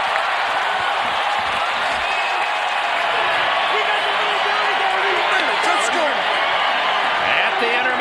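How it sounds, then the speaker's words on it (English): Super Bowl XXX stadium crowd between the Cowboys and Steelers cheering at the end of the half, a dense, constant roar filling the space, with a commentator's voice faintly underneath. "the Steelers give their fans a chance to cheer"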